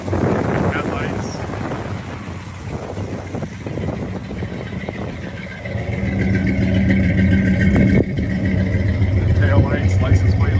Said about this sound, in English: there's the engine, sounds good. Runs nice and smooth.